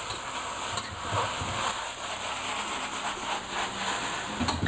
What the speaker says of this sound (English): everything's frying up in here